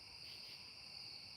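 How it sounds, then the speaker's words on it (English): Steady, shrill chorus of crickets chirping outdoors, a continuous high insect drone that holds at an even level throughout, with no voices. "Don't listen to the crickets"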